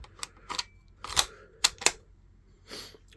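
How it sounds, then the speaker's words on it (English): A military surplus bolt-action rifle has its bolt worked, giving a handful of sharp, close mechanical clacks and metallic snaps spread irregularly over a few seconds, with quiet gaps between them and no voices. "Give you the satisfaction of a good old military surplus bolt action."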